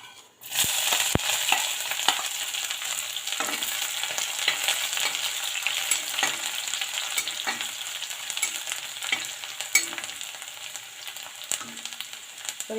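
Garlic dropped into hot oil with curry leaves and dried red chillies for a bitter gourd dish, bursting into a loud, continuous close sizzle with occasional stirring clinks, no speech.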